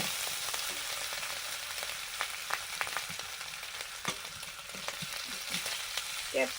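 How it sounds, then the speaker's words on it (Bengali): Chicken fries in oil with crushed ginger and garlic, a steady close crackling sizzle punctuated by scattered pops and a few stirring clatters throughout, with no talking. "এবারে চিকেনটা রেডি করে নিচ্ছি তেল দিয়ে আদা রসুন ছেঁচো দিলাম"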